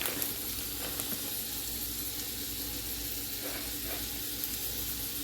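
Steady, close sizzling of leftover London broil beef frying in a hot pan for Philly cheesesteaks, a continuous crackling hiss with no talking.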